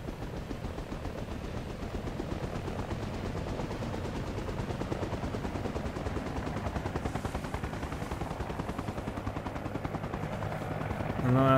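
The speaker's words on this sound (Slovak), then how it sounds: "To zase štartuje ten vrtuľník." Military helicopter starting up in Arma Reforger with a DayZ mod at night, a continuous loud rotor and engine drone with rapid chopping pulses that rises toward the end.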